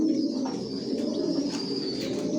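Racer pigeons coo softly and repeatedly at close range, a low continuous murmur of calls with faint background noise.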